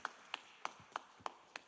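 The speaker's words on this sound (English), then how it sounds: "Please give him a huge round of applause." A few hands clap slowly and evenly for a participant at a corporate quiz event in India, about six distinct claps, faint and alone.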